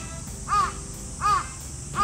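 A crow caws three times at even intervals, moderately distant, over a steady outdoor hiss at a golf venue.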